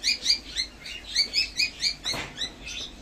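Small parrots chirping in an enclosure at the Andijan zoo in Uzbekistan, a quick rhythmic series of bright, close chirps repeating about every quarter second, with a brief rustle near the end.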